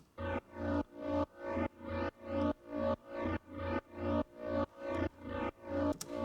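A distorted techno synth loop pulses in a steady run of about twelve evenly spaced notes, each swelling as an LFO sweeps the filter up and down and the waveform shifts, loud and alone.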